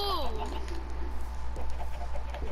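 Minecraft chickens cluck and squawk up close, with a sweeping call at the start and short, scattered clucks after it, all over a steady low hum.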